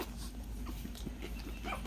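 A four-week-old puppy whimpers in a string of short, high, wavering whines and yips, close and moderately loud, with no one talking over it.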